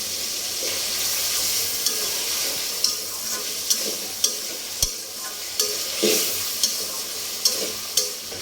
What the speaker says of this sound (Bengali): এখন আমি দিয়ে দেবো একটু রসুন বাটা, একটু জিরা বাটা, আর একটু আদা বাটা।